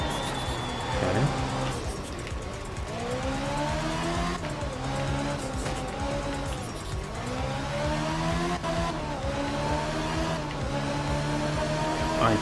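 A car engine revs continuously and up close as the throttle is applied, its pitch swelling and dipping repeatedly as power is eased on and off. Tire squeal mixes in throughout, and no one speaks.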